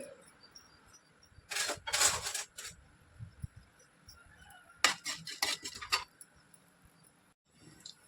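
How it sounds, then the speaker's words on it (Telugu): Tempering spices splutter in hot oil in bursts of sizzling crackle in short clusters, with quieter gaps and light clatter between them. "తాలింపు దినుసులు అవి వేగాయి, చిటపటలాడుతున్నాయి"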